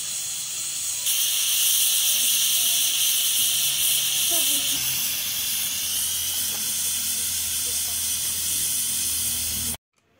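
Steady loud hiss of steam from a pressure cooker, broadband and continuous, rising in intensity after the first second and holding until it cuts off abruptly near the end.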